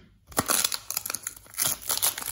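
Packaging is torn and crinkled close up in a series of quick rips and crumples over a couple of seconds.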